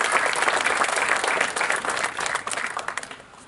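An audience at a graduation ceremony applauds steadily and loudly, with dense clapping filling the space and tapering slightly toward the end.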